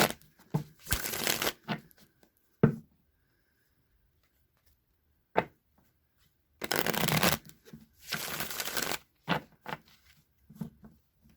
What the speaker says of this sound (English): now I'm going to pull 3 cards from the Deviant Tarot